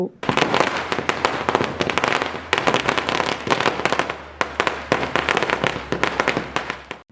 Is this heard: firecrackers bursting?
yes